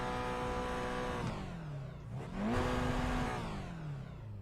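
A race car engine in iRacing at Sebring gives a loud, steady roar with rising and falling pitch as it revs up and eases off, continuous throughout with no talking.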